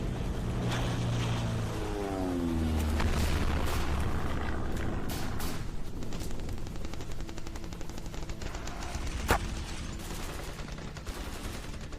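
An M60 belt-fed machine gun fires in scattered sharp cracks over a constant rumble of a boat engine and water.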